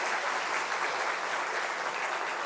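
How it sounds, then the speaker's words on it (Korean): A church congregation at a Korean afternoon praise worship service claps in praise to God. The applause is loud, steady and evenly dense, with a continuous wash of many hands and no voices. "하나님께 영광 박수 올려드렸고,"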